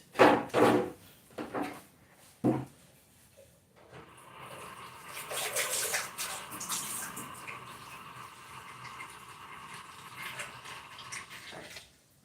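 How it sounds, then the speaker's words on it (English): Water is poured into a blender holding onion and pepper while making a green sauce for braised rice, a steady close splashing pour of several seconds after a few knocks and clatters. "So I'm adding a bit of water to it."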